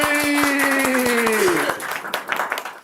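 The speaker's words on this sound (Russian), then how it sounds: "аплодисменты!" Audience at a televised comedy battle show breaks into applause while a sustained voice or musical tone fades out, the clapping rising into a dense, uneven patter and then tapering off.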